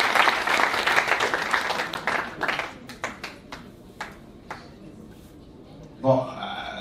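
A church congregation applauds the Lord, with dense clapping at first that thins into scattered, separate claps, followed by a brief louder burst near the end.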